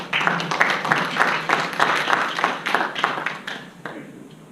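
An audience at an information session gives a few seconds of brisk, dense applause to welcome a speaker to the stage, fading out toward the end.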